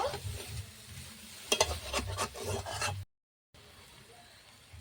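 Potatoes sautéed in a kadai for a potato curry give a close, steady sizzle with scraping stirring strokes, broken by a brief gap before fainter frying resumes.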